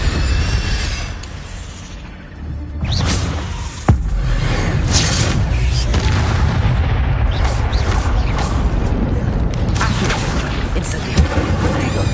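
Incendio fire spell cast in Hogwarts Legacy, a sharp crack followed by a roaring burst of flame and booming impacts that rumble on continuously amid game noise, with a voice speaking over it.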